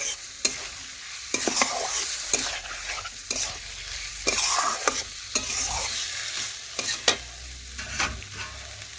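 Chicken with salt stirred in a frying pan over a clay stove: repeated spatula scrapes and knocks against the pan over a constant sizzling hiss, close and clear, no talk.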